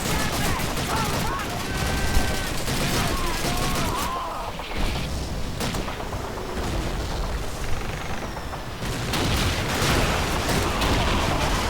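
Dense, continuous gunfire from the World War II shooter Call of Duty 2, with fusillades and booming shots layered throughout the clip and a voice speaking intermittently.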